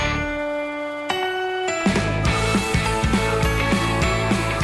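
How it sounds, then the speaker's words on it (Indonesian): Peeled, chopped pineapple is ground smooth in a machine for jam: a loud mechanical whir that kicks in and settles into a steady run of rhythmic clunking pulses, with no talk. "kemudian digiling hingga halus"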